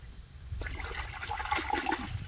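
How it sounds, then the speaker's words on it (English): A measured 50 ml of expensive liquid treatment poured into a container of water for seedlings, heard as a steady splashing pour that starts suddenly and runs on close by. "So I'm just going to add this to the water."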